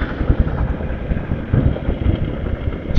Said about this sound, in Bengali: ওই পাওয়ার টেলারের ইঞ্জিন